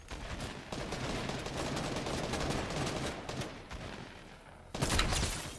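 Rapid gunfire in a first-person shooter video game, dense bursts of shots running almost continuously, with a sharp louder burst near the end.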